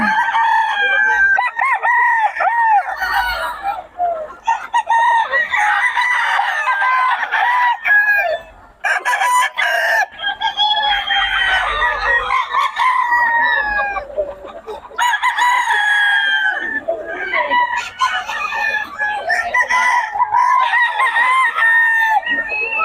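Young stag roosters and other chickens at a poultry seller's crow repeatedly and cluck nearby, overlapping calls rising and falling in waves with short gaps between them.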